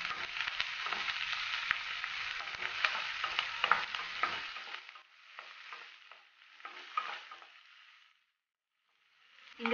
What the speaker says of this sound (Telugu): ఇందులోకి వేసుకొని కలుపుకుంటూ వేయించుకోవాలి.